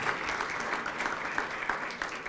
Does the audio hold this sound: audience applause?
yes